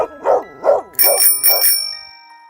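A cartoon scene at night with dogs barking, four sharp barks in even succession, loud and close, the last ones ringing with a bright tonal edge before fading out.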